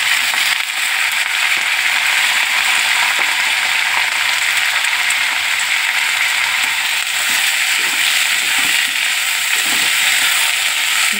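Washed rice and lentils being sautéed with fried peanuts in a pot for khichuri, a loud, constant hissing sizzle with faint scraping underneath, no speech.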